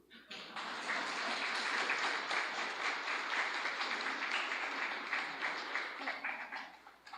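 Audience applause for a student's spoken story at a school event, steady dense clapping that swells quickly and holds evenly for several seconds before tapering off near the end.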